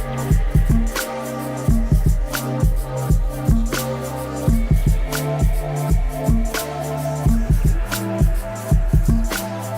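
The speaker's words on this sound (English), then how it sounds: "I'm really a fan of fat breathing drums." A fat, compressed lo-fi drum beat with a breathing, pumping quality plays at a steady groove, with heavy kicks, snappy snares and music throughout.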